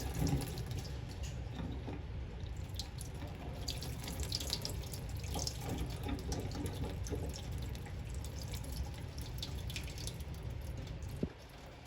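Tap water runs steadily into a kitchen sink while quinoa is rinsed, a constant close splashing stream that cuts off just before the end.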